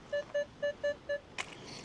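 Five short, even metal detector beeps ring out in a steady rhythm over a buried find, an old two-shilling coin in a park, followed by a brief clatter of digging, all fairly close and clear.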